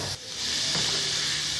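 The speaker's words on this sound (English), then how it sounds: "Then I should mix it well again." Kabsa chicken mixture stirred in a hot pot with salt just added: a steady, close hiss and sizzle with faint scraping from the spoon, continuous and fairly loud.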